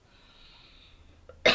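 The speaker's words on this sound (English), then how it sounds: "I'm sorry for coughing." A single short cough comes at the very end, loud and close, after a near-silent stretch of faint room tone.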